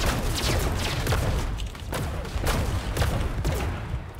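Rapid bursts of enemy gunfire crack and boom in a Fortnite match, a dense, loud fusillade of overlapping shots that dips briefly and then picks up again across the whole stretch.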